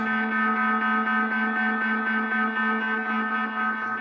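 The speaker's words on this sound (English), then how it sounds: "perhaps add the wave shaper distortion in" A synth tone in Absynth 6 runs through wave shaper distortion, a steady, buzzy, harmonically rich drone with a slightly pulsing texture, held for about four seconds without talk.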